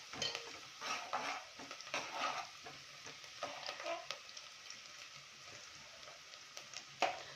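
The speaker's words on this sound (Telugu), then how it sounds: "ఆనియన్ కుక్ అయిన వెంటనే మనము అల్లం వెల్లిగడ్డ పేస్ట్ వేసేసి" Onions with ginger-garlic paste being stirred in a pan for gongura chicken, a soft sizzle broken by repeated scraping stirs and light utensil clinks, fairly quiet and close, with no talk.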